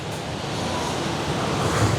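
Rough sea waves crash and roar along the Rio de Janeiro South Zone coast during a cyclone, a continuous loud surf wash with wind, swelling slightly toward the end.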